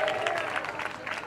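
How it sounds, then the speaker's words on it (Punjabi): Hands clapping at a Christian satsang gathering in Dhina village, a steady crowd-wide patter of applause at moderate volume with faint voices mixed in. "ਸੋ ਤਾਲੀਆਂ ਨੂੰ ਵਜਾਉਂਦੇ ਰਹਿਣਾ"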